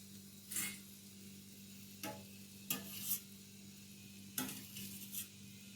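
Boondi batter frying in hot oil for boondi laddu, a soft continuous sizzle interrupted by several distinct scraping and clinking strokes of a ladle stirring in the pan.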